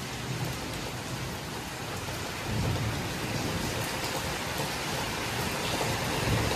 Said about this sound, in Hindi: बिजली का आवाज सुन रहे हो